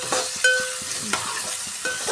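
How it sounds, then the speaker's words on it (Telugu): Ginger paste stirred into a curry of bachhala kaya cooking in a pan, a few brief scraping strokes over a low sizzle, close and moderately loud, no talk. "ఇది మంచిగా ఇట్లా కలుపుకోవాలి"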